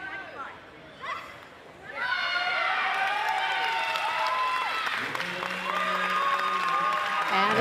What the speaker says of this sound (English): you can hear the fans in the background cheering them on